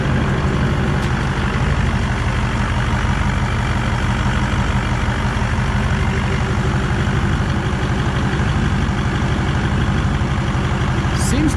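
A Duramax diesel truck engine fitted with a new, bigger turbo runs steadily and smoothly at idle, giving an even, close, continuous rumble throughout.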